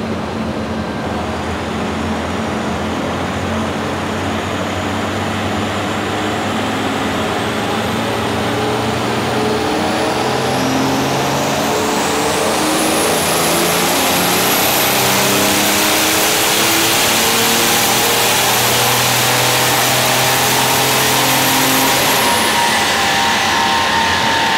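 A tuned BMW 330d diesel at stage 7.5, making about 470 hp, accelerates hard with a loud, steady engine roar and a rising turbo whine that climbs and holds high before dropping off near the end.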